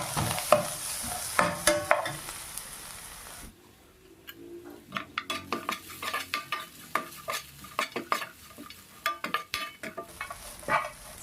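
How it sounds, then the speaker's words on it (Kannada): Grated coconut frying in ghee in a pan with raisins and cashews for sweet potato halwa: a bright sizzle, then a brief lull before a steady run of rhythmic spoon scrapes and clinks against the pan, close and alone. "ಈಗ ಇದಕ್ಕೆ ಕಾಯಿ ತುರಿ ಹಾಕ್ತಾಯಿದ್ದೀನಿ."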